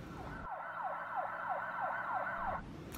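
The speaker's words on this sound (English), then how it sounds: "Play the siren." A wailing ambulance siren cycles up and down repeatedly in quick sweeps, loud and close, then cuts off abruptly.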